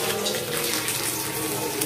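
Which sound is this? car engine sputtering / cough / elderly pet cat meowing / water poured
water poured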